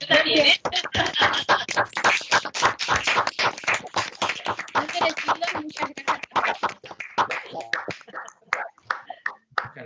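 Online meeting attendees clapping into open microphones after a seminar on taxation and COVID-19, a choppy, clipped burst of overlapping claps that is loud at first, then thins into sparse scattered claps.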